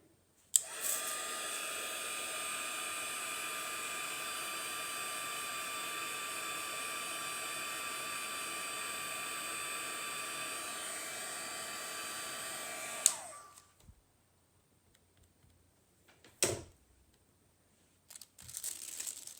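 A hair dryer blows steadily and loudly for about twelve seconds to dry paint on a painted stem, then shuts off, leaving near silence broken by a few brief handling noises.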